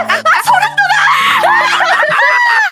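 A voice lets out a long, shrill scream that wavers in pitch, broken by giggly, laughing inflections. It is loud and close, with a low musical tone underneath.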